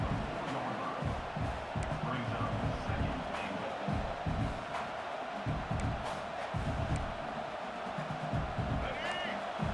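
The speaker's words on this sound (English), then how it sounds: "this big crowd doing everything possible to inspire this defense down here near the goal line" A big stadium crowd roars steadily in an NCAA 26 college football video game as Florida's defense holds near the goal line against LSU, with a continuous wash of cheering under low commentary.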